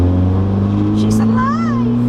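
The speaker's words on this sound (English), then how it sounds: "Rev it up there." A boosted Nissan 240SX idles loudly up close with a deep steady drone, while a voice talks briefly over the engine.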